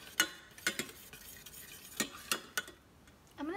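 Food stirred in a cooking pan, sharp utensil clicks and scrapes arriving in an irregular series, close but quiet, with no talk.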